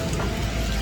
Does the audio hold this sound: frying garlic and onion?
no